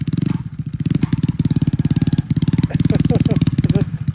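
Detroit Diesel truck engine chugging slowly through snow, a steady close rhythmic pulsing with a clattering diesel beat that holds at a low, labouring pace, with someone talking over it.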